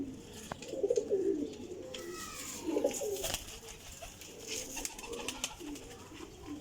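Champion pigeons coo in a few soft, throaty bursts close by, with quiet gaps between them and faint background rustle.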